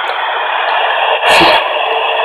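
Empath P-SB7 spirit box sweeping radio stations, a continuous loud raspy hiss of static and broken fragments, with a brief louder burst near the middle before the steady sweep resumes.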